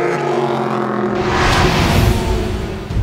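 Aston Martin and Ferrari race cars battling at the 2015 6 Hours of Fuji, their engines roaring loudly and continuously close by, the pitch and intensity shifting as they pass.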